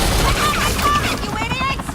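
Police officers open fire in the video game Batman: The Enemy Within, a dense burst of gunshots under loud voices shouting over the shooting.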